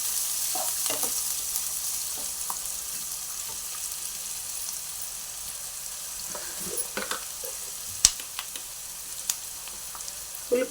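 Finely cut onion fries in spices for soya keema curry, a steady close sizzle with occasional stirring clicks and scrapes, louder near the end.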